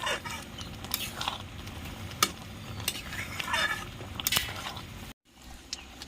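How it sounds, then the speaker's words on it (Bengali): Boiled mangoes being stirred and mixed with spices for an instant mango pickle, giving soft wet squishing and scraping sounds with a few sharper clicks of the spoon against the pot, steady and close, with a short silent break near the end. "আমগুলো আমার ভালো মতো সেদ্ধ হয়ে গেছে ভালো করে মিশিয়ে নিচ্ছি আমি"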